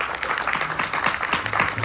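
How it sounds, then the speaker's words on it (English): An audience at a Ganesh Chaturthi Utsav celebration claps together, a dense patter of many hands at moderate distance, steady for the whole stretch with faint voices beneath. "Please clap for her"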